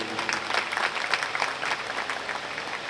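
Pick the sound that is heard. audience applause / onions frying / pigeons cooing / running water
audience applause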